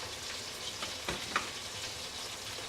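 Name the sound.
butter melting and sizzling in a pan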